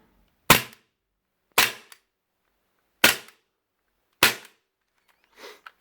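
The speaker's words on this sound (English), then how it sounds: "Yeah, really satisfying gun to shoot." A Cybergun/VFC FN FNX-45 airsoft pistol fires four sharp, loud, evenly spaced shots, each with a quick mechanical snap, followed by a fainter fifth sound.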